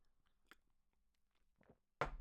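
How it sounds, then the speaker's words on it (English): A single loud slurping sip of coffee near the end, after a stretch of quiet, scattered small noises. "Sips coffee."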